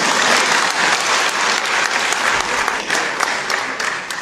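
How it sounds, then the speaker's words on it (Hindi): A crowd at a Constitution Day speech breaks into steady, loud applause that fills the room throughout with little variation. "अरे भाई ताली तो बजाइए।"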